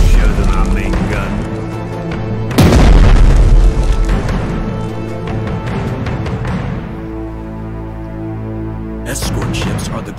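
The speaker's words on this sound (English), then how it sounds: "Oh yes, we'll show them our main gun." A naval main gun fires in a PC Pacific grand-strategy war game, one loud booming blast with a long rumbling tail, set among other game sounds and music beds.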